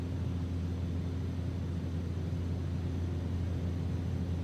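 Cabin noise inside a Cessna 208 Caravan in a flight simulator game: a loud, unbroken engine drone with a low steady hum and broadband rush, heard alone for several seconds.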